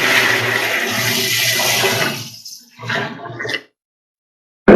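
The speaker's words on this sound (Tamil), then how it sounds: "இந்த கோமியத்தை ஊற்ற போறோம்" Three litres of aged cow urine poured from a can, a loud continuous gushing splash that tapers off, surges once more briefly, then stops, followed by silence and a sharp knock at the end.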